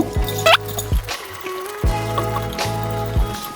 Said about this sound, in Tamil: இப்போ வந்து இந்த லிக்விட் கலவையை வந்து இதோட ஆட் பண்ணிடலாங்க.